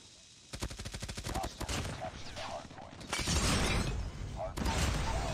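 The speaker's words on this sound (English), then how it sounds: "Triple kill with the vehicle explosion, chat!" A vehicle blows up during a fast video game firefight, with rapid bursts of automatic gunfire and heavy blasts, loud and dense, overlapping continuously.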